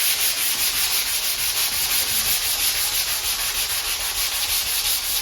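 Steady back-and-forth scraping of a handheld sanding block on a wall being prepped for paint, close and continuous with a regular rubbing pulse, no talking.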